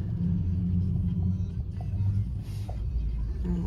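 A car rolls in and parks with a steady low engine rumble and tire noise, fairly close, without talk over it.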